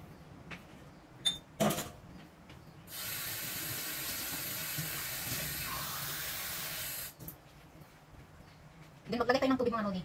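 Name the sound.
water being poured into bowl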